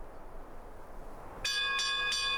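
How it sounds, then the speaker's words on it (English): An emergency bell in a watchtower rings out in a video game, three sharp, loud metallic strikes in quick succession with ringing overtones after a quiet stretch. "The violent ringing of a bell began to echo throughout the camp."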